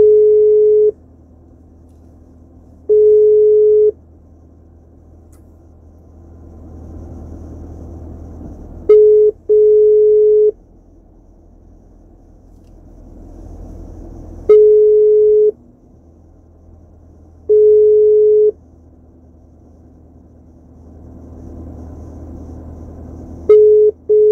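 An outgoing phone call rings on the caller's end: a steady electronic ringback tone pulses in short bursts about every few seconds, loud and clear against a quiet, faintly humming background.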